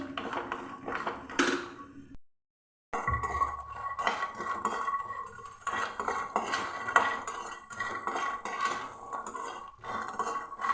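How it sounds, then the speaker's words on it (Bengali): Bori, small lentil dumplings, frying in a kadai, heard as repeated metallic clinks and scrapes of a spatula against the pan over a low background, with a brief silent gap. "আমি বড়িকে ভেজে নিচ্ছি একটু হালকা লাল করে ভেজে নিচ্ছি"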